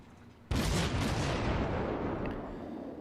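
A World of Warships naval gun salvo firing HE shells, one sudden loud blast that rolls into a long, dense rumbling roar and slowly fades over a few seconds, with no voices.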